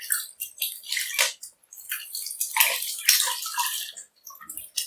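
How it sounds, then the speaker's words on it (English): Soapy water sloshing and swishing as a cross-stitch project is washed by hand in a basin, with uneven splashing and dripping bursts running throughout, close and fairly loud, no talking. "So the project itself will get some soapy water in it."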